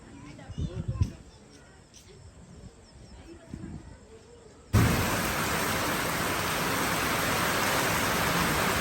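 Loud, dense roar of a heavy night storm's rain begins abruptly and continues steadily, drowning everything else; before it, quieter outdoor background with faint voices.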